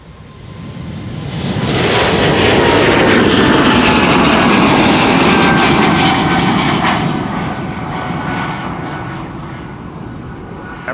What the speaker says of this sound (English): Air Baltic on its way to Tallinn. Bombardier C-Series 300 A220.